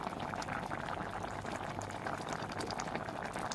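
Malabar spinach dal with chili powder bubbling in a pot, a dense, continuous close burble of boiling, soft and even for a few seconds.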